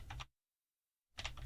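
Fast clicking on a computer keyboard while a file name is typed, two short bursts of quick keystrokes separated by near-total silence, close and crisp.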